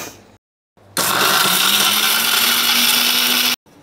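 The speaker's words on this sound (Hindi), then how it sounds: "अब हम ये सारे मसालों को ग्राइंड करेंगे।" An electric grinder whirs loudly and steadily for about two and a half seconds, grinding roasted meat masala spices, after a short quiet pause and before it cuts off abruptly.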